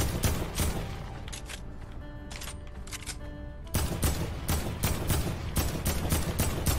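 Rapid, loud bursts of gunfire in the video game Fortnite come in dense volleys, pause briefly with scattered shots, then resume in a heavy, continuous fusillade.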